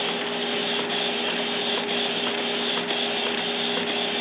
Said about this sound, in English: now I'm printing something out. I'm just watching it go back and forth to make sure